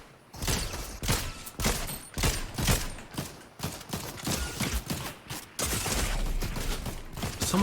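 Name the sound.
gunfire in a video game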